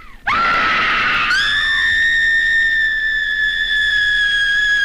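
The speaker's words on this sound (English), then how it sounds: "Scream for your life!" A woman lets out a long, loud horror-movie scream, rising sharply then holding a high, steady, piercing pitch for several seconds, close and alone.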